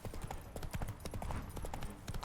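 Horse hooves clip-clopping at a steady trot in the video game The Witcher 3, quiet rhythmic clopping with no talking over it.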